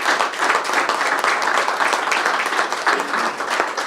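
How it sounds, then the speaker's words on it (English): A sponsor thank-you at a Dunkirk, NY summer events press conference is met by a steady, dense round of clapping from the room, holding at an even level throughout with no pause. "a warm round of applause for all of our sponsors"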